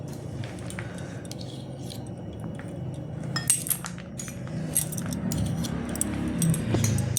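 A spoon clinks and scrapes against a bowl while stirring about a spoonful of ghee into sago for Bengali-style sabudana payesh, with steady light tapping and a soft background hum throughout.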